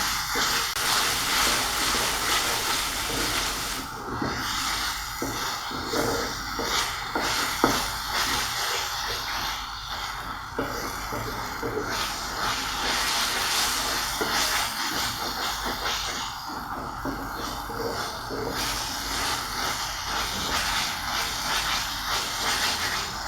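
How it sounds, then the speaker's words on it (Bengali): Onions frying in oil and being stirred make a continuous broad hiss and sizzle that runs steadily throughout, with faint scraping textures underneath. "পেঁয়াজ বাদামি রং হওয়া পর্যন্ত ভালোভাবে নাড়তে হবে।"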